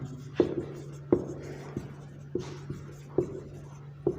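Handwriting on paper, a steady series of soft taps and scratches of a pen forming words, close and quiet, with no speech.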